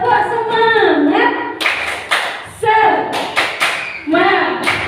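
An audience at a positive-discipline workshop claps in counted bursts of one, two and three beats. Each group of claps lands sharply between lines spoken or chanted by a leader.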